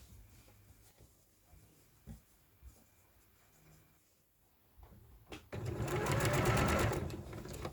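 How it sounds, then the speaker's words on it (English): A sewing machine back stitches along the edge of a tunic collar: quiet fabric handling first, then a loud, steady run of stitching over the final two seconds. "When you get to the other end of the collar, make sure that you remember to back stitch right at that edge."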